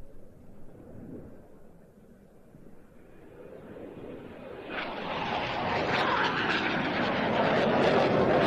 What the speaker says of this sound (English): the final manoeuvre from the Italian Air Force T-346A Master